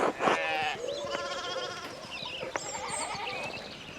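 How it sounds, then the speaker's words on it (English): Little sheep bleat repeatedly in the historical narrative game Pentiment, several wavering calls overlapping and trading off close by, with no speech over them. "we can get these little sheep under control"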